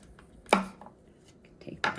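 A kitchen knife slicing through a tender vegetable on a cutting board: two crisp, close chops about a second apart, with quiet handling noise between.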